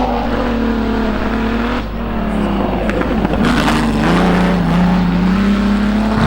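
Historic Group N Pratt Holden Sports car on a hillclimb run, engine droning loud and close, rising and falling through gear changes with a sustained high rev over several seconds.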